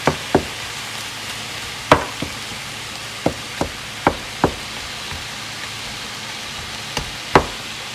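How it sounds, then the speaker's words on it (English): Ground beef browns in a pan, a low steady sizzle broken by sharp, irregular knocks of a utensil against the pan, close and clear with no talking. "And then you're just going to brown your meat until it's fully cooked."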